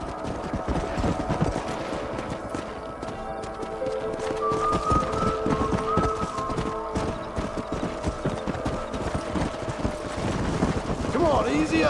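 Horses' hooves clip-clop steadily at a walk in Red Dead Redemption over a continuous outdoor bed of wind and ambient noise, with a voice speaking now and then.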